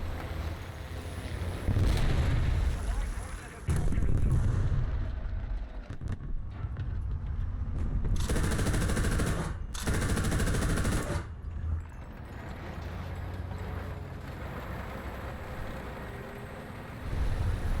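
SUB-I-II self-propelled anti-aircraft gun firing its 20mm cannon in War Thunder, with loud sustained bursts of rapid automatic fire, several separate volleys set against a steady engine rumble.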